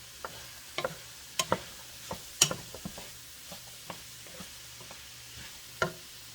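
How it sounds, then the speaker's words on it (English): Vegetables cooking in a pot for shrimp and sausage jambalaya, a low sizzle under scattered sharp clicks and scrapes of a spoon against the pot, close and fairly quiet. "you just want to cook this until these vegetables get soft"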